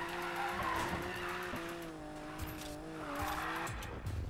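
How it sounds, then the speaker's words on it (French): A car drifts in Need for Speed Payback, its engine droning at a steady pitch while tires squeal continuously through the slide, loud and close. "le dernier drift était juste magnifique"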